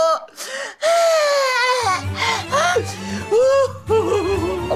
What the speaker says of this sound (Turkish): Bir altta sürekli bir fonda bir ağlama.